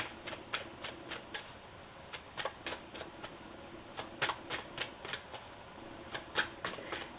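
Tarot cards being shuffled and handled close by, a quick run of sharp papery snaps and flicks in uneven bursts, alone with no talking.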